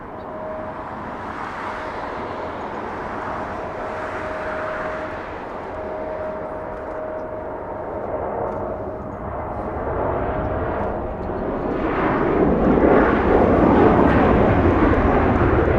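A small Delta Airbus A319, flight 2581 arriving from San Francisco at Los Angeles airport, hums at a moderate distance, its jet noise swelling louder and rougher toward the end as it draws nearer.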